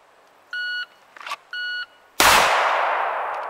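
Two short electronic shot-timer beeps, then a single sharp, loud Glock 19 pistol shot whose echo rings and decays slowly across an outdoor range, with no one talking.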